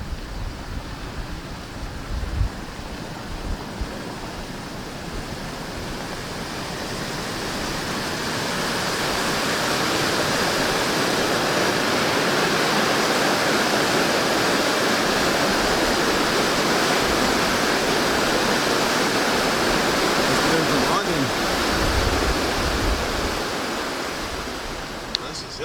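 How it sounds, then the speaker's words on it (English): Water pours over an old dam on a small creek in Northern Ontario, a loud, steady broadband rush that swells slightly and holds constant for the full length. "We got an old dam along a little creek on the way to Hillsport."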